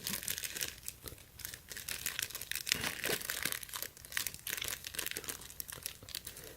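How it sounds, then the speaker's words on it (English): Thin packing tape crinkles and rustles as it is pulled and pressed down onto packaging during a bag unboxing, with quiet, close, irregular bursts of crinkling and tearing over several seconds. "Just gonna tape it down."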